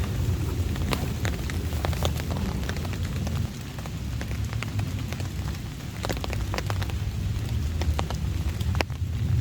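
Steady heavy rain patters and hisses throughout during a thunderstorm at a campsite, with scattered sharp drop impacts and a low thunder rumbling underneath; no one speaks.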